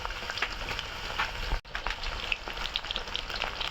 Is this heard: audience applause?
no